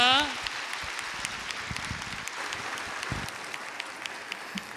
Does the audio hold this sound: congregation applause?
yes